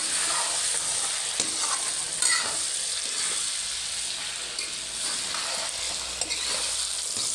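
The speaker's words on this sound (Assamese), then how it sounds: "ইয়াত ভালদৰে লৰাই দিম এয়া আমাৰ মাংসখিনি চব ফ্ৰাই হৈছে" Pork for an Assamese-style gravy sizzles and fries steadily in a pan while being stirred, a continuous close hiss with occasional soft scrapes of the spoon and no talk.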